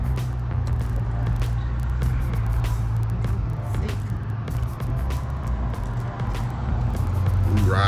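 Steady low road rumble and engine drone from inside a moving Nissan Maxima on a rainy drive, constant throughout with occasional faint clicks and rattles in the cabin.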